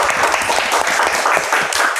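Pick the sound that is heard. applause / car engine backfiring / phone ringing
applause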